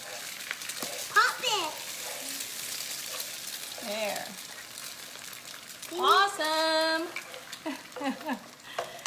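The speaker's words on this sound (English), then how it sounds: "We're just gonna add our eggs into the hot pan." Steady sizzling of eggs frying in hot butter in a pan, heard fairly quietly while children chatter and squeal intermittently over it.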